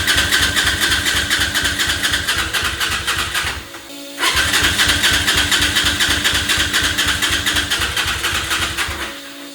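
A 1000cc monster kart engine cranks on a jump start in two long, loud, rhythmic churning bursts with a short pause between them, never catching and running.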